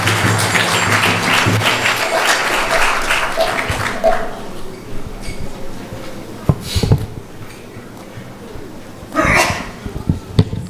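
A temple congregation at a Sunday feast program claps in a brief round of applause that fades out, followed by scattered quieter sounds and a few short bursts of noise.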